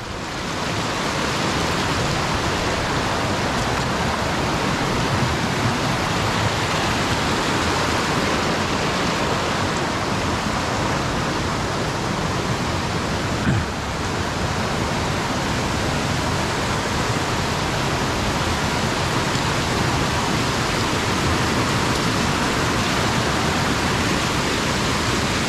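A river in a lush natural setting rushes steadily, a dense, even broadband wash of flowing water that stays loud and unbroken throughout with no voices.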